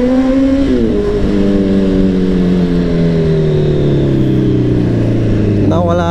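Car engines in heavy traffic hum loudly and continuously, one dominant engine tone sliding slowly downward in pitch before a brief rise near the end.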